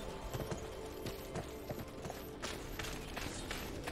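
Horse hooves clip-clop in a video game, a steady rhythmic trot of hoofbeats over a continuous faint background, fairly quiet throughout.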